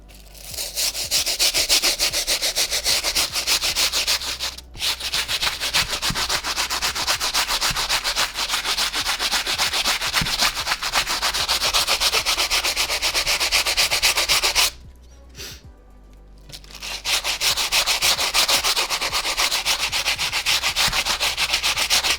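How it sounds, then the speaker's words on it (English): A thick, stiff bristle brush scrubs a shoe midsole with fast, continuous rasping strokes, close and loud, pausing briefly twice, with no talk. "we are going to be using Rejuvenator's thick, stiff bristle brush"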